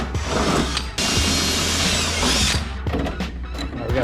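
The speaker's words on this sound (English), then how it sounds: "Just gonna tack drill," A power drill bores tack holes into a car hood on a 1950s classic being rebuilt into an AWD tube-chassis race car, loud and close, whining in two sustained bursts with a brief break between them.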